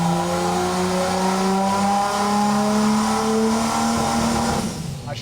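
A boosted Chevy 292 straight-six engine holds a loud, steady high rev close up, its strong harmonic drone staying level before easing off near the end.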